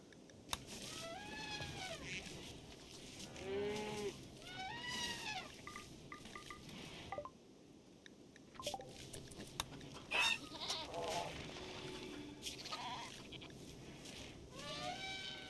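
Goats in RimWorld bleat repeatedly, wavering cries at moderate distance over a low steady background, several calls spread across the stretch.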